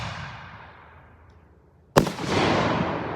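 A firework bursts with a single sharp, loud bang after a quiet buildup, followed by a sustained crackling, sparkling hiss that lingers close by.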